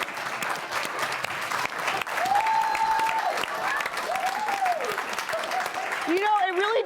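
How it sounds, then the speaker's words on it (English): An audience applauds continuously with dense, steady clapping, while a voice talks over it with rising, drawn-out tones. "we're all applauding that he was capable of good morning"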